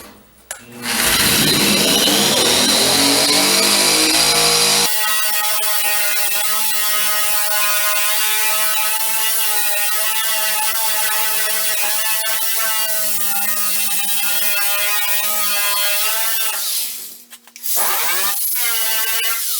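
An Eastwood Contour SCT surface conditioning tool runs on metal with a loud, continuous whine. The pitch shifts as it bears on the work, and it dips briefly near the end before spinning back up.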